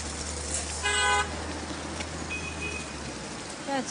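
Heavy road traffic in a city that grew out of a village, a constant engine rumble with a sharp car horn toot early on, fainter honks and squeals later, and voices mixed into the din.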